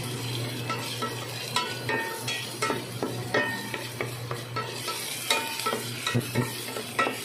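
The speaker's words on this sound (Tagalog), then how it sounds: "Inuna ko na yung sibuyas. Yan, gigisain ko siyang mabuti." Onions sautéing in a pan before garlic is added, a continuous close sizzle punctuated by frequent utensil scrapes and clinks as they are stirred.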